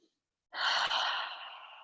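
A single long, audible exhale during a yoga stretch, a breathy sigh that starts abruptly after a short silence and slowly fades, close to the microphone with no talking.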